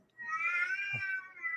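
A cat gives one long, drawn-out meow, clear and fairly close, with a strained wavering tone held for over a second.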